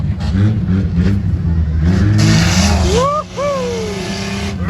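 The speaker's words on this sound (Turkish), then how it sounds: "Dehşet gaz basıyor" An off-road race car at a Sapanca off-road race accelerates hard with a loud, sustained engine roar, followed by rising revs near the end, while people talk excitedly over it.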